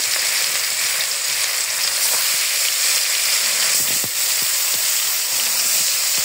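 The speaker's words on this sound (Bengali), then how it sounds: "মাছগুলো আমি ভালো করে ভেজে নিব।" Pangas fish frying in oil in a pan, a loud, dense, continuous sizzle and hiss that holds steady throughout, with a few faint clicks underneath.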